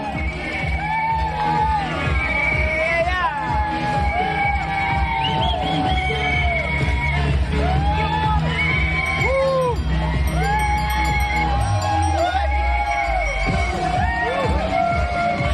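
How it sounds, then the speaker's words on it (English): A crowd cheering passing riders at a charity bike ride, whoops and yells layered over one another at a loud, steady level outdoors. "We have several people out here cheering them on"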